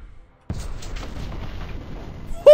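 A gun firing in the Warhammer 40,000 Boltgun video game, one sudden loud blast after a moment of quiet, trailing off into a rumbling tail and ending in a short bright tone.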